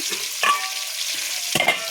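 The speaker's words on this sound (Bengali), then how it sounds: "আজকে মাছ ভাজছি, মাছ দিয়ে ফুলকপি আলু দিয়ে রান্না করব।" Fish sizzling as it fries in a pan, a steady crackling hiss with a few sharper spits and pops, close and clear.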